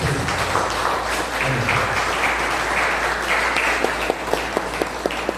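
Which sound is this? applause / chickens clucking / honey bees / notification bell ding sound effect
applause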